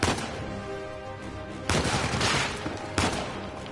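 Gunfire in the video game Uncharted 4 during a heist, rapid bursts of shots with two sharp loud blasts standing out over a continuous barrage, near and intense with no voices.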